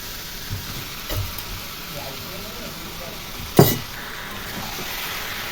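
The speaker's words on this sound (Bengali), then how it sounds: "সয়াবিন আলুর সাথে সুন্দর করে মশলাটাকে একটু কষিয়ে নেব।" Soybean chunks and potatoes fry with spices in a pan, giving a low, steady sizzle under faint background noise. A single sharp clink of a utensil sounds partway through, and a few softer stirring knocks are heard.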